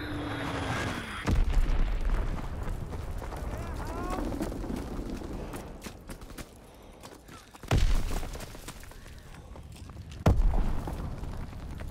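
Bomb explosions in a WW2 sniping video game, several deep booming bursts over a constant rumbling battle din, with voices talking through the mix.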